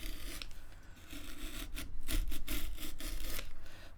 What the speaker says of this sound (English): holding underneath the chisel so it doesn't run away from me, and stab into the pentagon